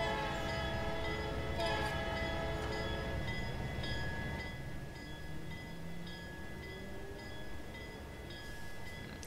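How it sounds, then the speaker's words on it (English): A train in the Bluetick Rail-link video game departs with a sustained horn tone over a rumbling, loud engine drone that gradually eases, with no speech. "Alright, Luigi, I'm gonna slowly start moving and departing out of here."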